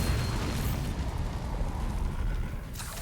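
A Bombarda explosion spell in the Hogwarts Legacy video game, a heavy rumbling blast that roars continuously at close range and fades slightly near the end.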